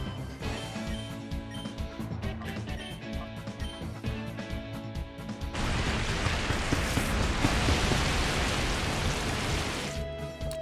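Game rain from the Rain Dance move in Pokemon XD Gale of Darkness starts after a tonal passage and becomes a dense, steady hiss of falling rain that fills the rest of the stretch.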